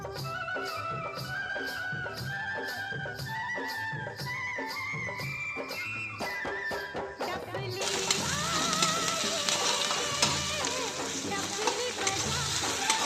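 A chilli, garlic and cumin paste sautés for chivli bhaji, a soft sizzle and stirring running steadily under a rhythmic musical backing that grows brighter and louder in the second half.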